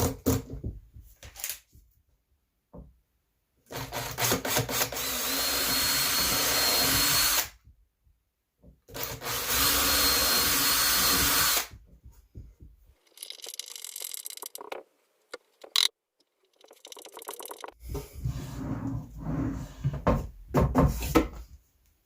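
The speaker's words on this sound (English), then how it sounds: "I'm going to pilot drill it and screw them on." Bursts of power drilling pilot holes into scaffolding boards for a desk, a couple of long sustained runs broken by silences, then shorter whirs of screws driven into the wood, close up and loud.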